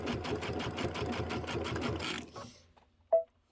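A sewing machine runs at a fast, even clatter while piecing quilt sections for a table topper at a slightly longer stitch length, then stops abruptly, leaving a brief quiet followed by a single sharp click.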